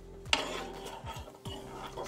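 A spoon stirs honey in a small bowl or cup, giving a few soft scraping strokes and one sharp clink of metal against the dish, close and fairly quiet.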